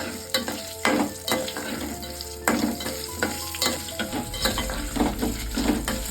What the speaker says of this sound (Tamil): இஞ்சி ஓரளவுக்கு வறுபட்டுருச்சு